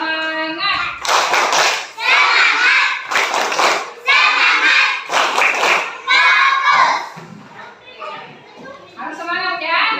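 Schoolchildren in a classroom perform a rhythmic clapping chant, with bursts of loud unison claps alternating with their shouted, sung voices in a quick patterned beat, close and lively.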